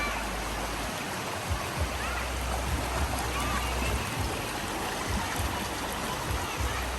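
River water flowing steadily near a resort, a close, continuous rushing and splashing wash that holds at an even level for several seconds, with no talk over it.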